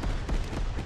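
Cannon fire in a Micro Machines battle video game: a rapid cluster of booming shots, loud and dense across the short burst.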